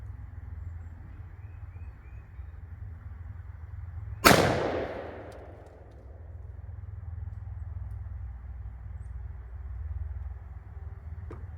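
A single loud shotgun blast fired while sighting in a red dot for turkey season, a sharp crack with a decaying boom against steady low outdoor rumble and no talking.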